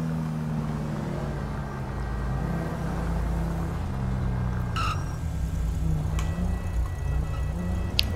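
A black Fusilade car in GTA V being driven northbound, with a steady low engine rumble and shifting drone, a few brief clicks and faint tones near the end, no talk.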